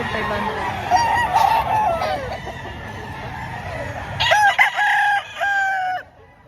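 Roosters crow repeatedly at a chicken market in Lipa, Batangas, several long calls overlapping, with a clucking bird and background murmur; fairly close and loud.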